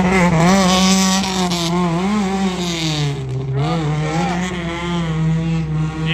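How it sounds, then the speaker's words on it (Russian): A car accelerating hard during winter gymkhana training, its engine note climbing and dipping through revs, loud and close with tire and wind noise, no talking. "Слышь, нормально так-то разгончик имеется"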